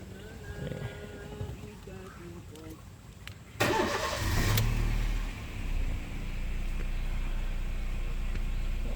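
A 2013 Honda Jazz RS facelift car engine cranks and catches with a sudden loud burst, then settles into a steady running rumble; a voice talks briefly beforehand.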